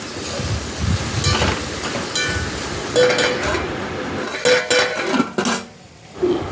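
A long beans curry in a pan gets stirred: metal spoon scrapes and clanks against the pot repeat irregularly over a steady background hiss, close and fairly loud, with no talk.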